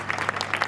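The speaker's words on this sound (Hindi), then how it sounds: "कृपया जोरदार तालियों से हमारे अतिथि का स्वागत" Applause from an audience at a school annual function, welcoming a guest onto the stage; a short burst of fairly faint, uneven clapping with no voices.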